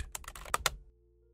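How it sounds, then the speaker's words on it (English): Keys on a computer keyboard are tapped to type a search into a web browser on Windows 11, giving about six quick, close clicks in under a second, then silence. "Next, in the search bar, type HandBrake download."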